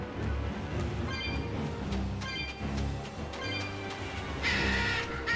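Crows caw in the Tales of Berseria video game, giving several short harsh calls over a steady, dense game soundtrack.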